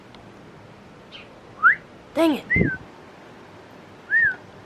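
A bird outdoors in Cabo gives a few short, rising whistled calls with gaps between them, heard close and fairly clear, while a person speaks briefly over the calls.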